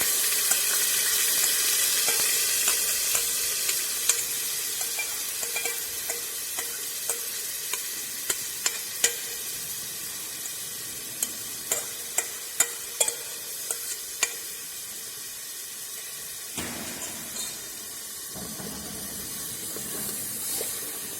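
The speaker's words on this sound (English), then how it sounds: "We are adding tomato puree into it." Tomato puree hits browned ginger garlic paste in a hot pan for a Kashmiri dish, giving a steady sizzle with scattered sharp crackles and stirring scrapes, no voices over it.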